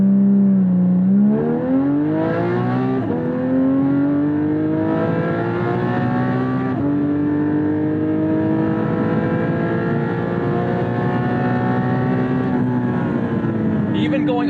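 A Porsche 718 Cayman GT4 engine pulls hard uphill on a race track, its loud, steadily rising note climbing through the revs with a brief shift near the start and a sustained wail after.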